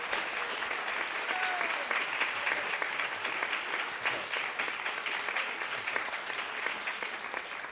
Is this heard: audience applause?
yes